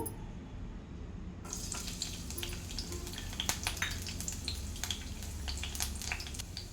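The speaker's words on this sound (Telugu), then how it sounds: "ఆయిల్ వేడైందండి ఇప్పుడు ఇందులో సన్నగా తరిగి పెట్టుకున్న వెల్లుల్లి రెబ్బలు వేస్తున్నాను" Finely chopped garlic cloves drop into hot oil in a pan and sizzle steadily, with scattered crackles and pops over a continuous frying hiss.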